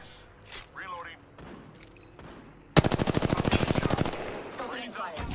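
Rapid automatic gunfire from Apex Legends, set in a ranked match on the Storm Point map, a burst of about a second and a half of fast regular shots, loud and close, with game voice chatter and effects before and after.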